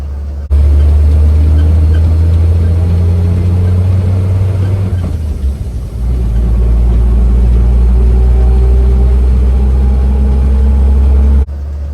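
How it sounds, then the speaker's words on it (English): A 1953 Chevrolet 6100 flatbed truck with a straight-six petrol engine, four-speed gearbox and leaf springs rumbles low and loud as it rolls down a very bumpy road, the steady drone dipping briefly midway before continuing. "here we are out for a little trundle in the 1953 Chevrolet 6100"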